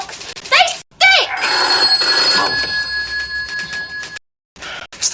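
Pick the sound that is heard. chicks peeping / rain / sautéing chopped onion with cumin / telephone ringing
telephone ringing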